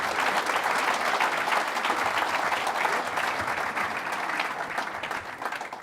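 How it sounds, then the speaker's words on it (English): A live-stream event audience gives a sustained round of applause, dense clapping throughout that gradually thins toward the end. "a big round of applause for that"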